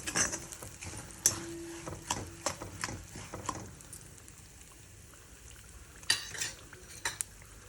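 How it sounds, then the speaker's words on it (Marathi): Split mustard seeds and fennel are sautéed in oil for bitter gourd pickle, giving quiet sizzling under frequent metal spoon scrapes and clinks against the pan, busier at the start and end, close and fairly soft, no speech. "मोहरीची डाळ अशी चांगली तेलात मस्त पैकी परतून घ्यायची"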